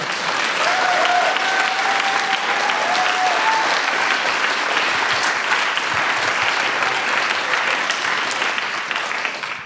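An audience at a youth hackathon's final presentations gives loud, continuous applause lasting nearly ten seconds and fading a little at the end, with a brief tonal whine early on.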